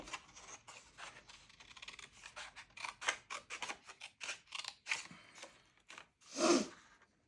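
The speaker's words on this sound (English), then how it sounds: "So I'm just going to fussy cut this out." Scissors snip close up around a stamped paper image for a card, a run of quick irregular cuts with short pauses and one louder snip near the end, no voice.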